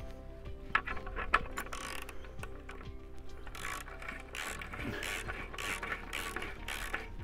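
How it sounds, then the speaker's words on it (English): A ratchet with a 15mm socket tightens a bolt holding a fence post bracket to a wall, giving a series of quick, close mechanical clicks in short bursts, with no talk. "nip this up with a 15mm socket and a wrench or a ratchet"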